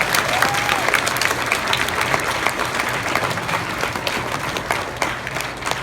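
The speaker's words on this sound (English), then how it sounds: "Give yourself a big round of applause." A school auditorium crowd at a Beta Club induction gives a sustained round of applause, dense steady clapping from many hands filling the room for several seconds with no talk over it.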